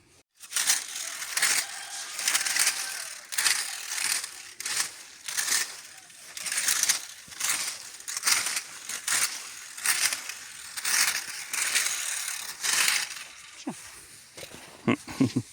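A shovel scrapes snow during a winter clean-up on New Year's Day, a steady rhythm of loud, close, crunching strokes repeating every second or so across the whole stretch, with a few brief knocks at the end.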